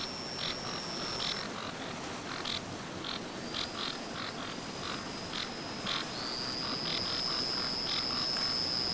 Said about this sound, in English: Much of the prevailing noise in the forest came from the humble frog, and when several were together, they sang in harmony on different notes